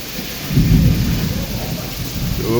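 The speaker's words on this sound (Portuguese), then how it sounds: "Chuva com trovão." Heavy rain with thunder over a city: a low rolling thunder rumble swells early under a constant loud hiss of rainfall.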